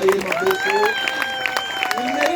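A church congregation at a fasting and prayer service claps and cheers in praise of Jesus, with many raised, sustained voices over a bed of steady applause and crowd noise.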